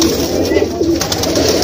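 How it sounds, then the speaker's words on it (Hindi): Soft pigeon cooing in low repeated murmurs at a pigeon market in Old Delhi, mixed with steady background noise, close by. "ये काला कबूतर जो बैठा हुआ है ना"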